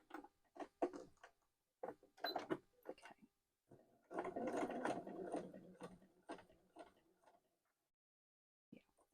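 A sewing machine stitches a wallet in quiet, faint bursts of mechanical ticking and whirring separated by silent gaps, with a longer run near the middle.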